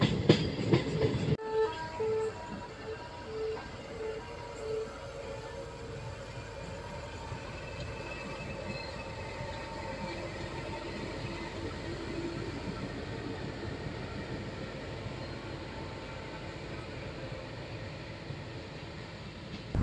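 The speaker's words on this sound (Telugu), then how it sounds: "మన ట్రైన్ వచ్చేసి విజయవాడ జంక్షన్లోకి ఎంటర్ అవుతుంటే" A MEMU passenger train rumbles steadily along the tracks entering Vijayawada Junction, a continuous low roar and faint rhythmic clatter, after a brief louder burst at the start.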